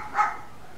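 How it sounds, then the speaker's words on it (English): A single short dog bark sounds at moderate distance, a brief yelp-like burst over a quiet background hum. "The barking dogs."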